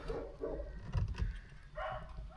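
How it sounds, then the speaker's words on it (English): Several dogs bark at passers-by in a horse-drawn Amish buggy outdoors, a couple of louder close yips standing out mid-clip against steady background noise. "The dogs are barking at an Amish going by."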